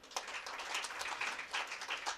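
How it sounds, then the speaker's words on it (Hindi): A crowd at a Women's Day celebration claps for itself, a dense steady patter of applause at moderate volume lasting a couple of seconds, with no voices over it. "तो एक ताली आप खुद के लिए भी बजाइए"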